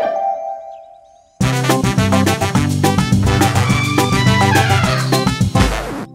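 A bell chimes in a Pocoyo cartoon, ringing once and fading before bright cartoon music bursts in loudly and carries on.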